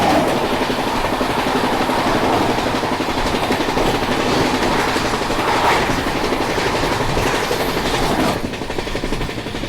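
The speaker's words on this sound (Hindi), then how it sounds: "तो ये क्रॉसिंग हो रही है सेंट्रल रेलवेज की राजधानी के साथ" The Bengaluru Rajdhani Express passes another Rajdhani train on the adjacent track. A steady, loud rumble and rhythmic wheel clatter are heard from on board, continuous throughout.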